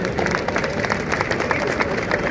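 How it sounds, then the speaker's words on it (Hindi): Audience of distributor leaders clapping at a business gathering, a continuous wash of applause with fairly even rhythm, moderately loud and diffuse across the hall. "आपके लिए जोरदार ताली होनी चाहिए"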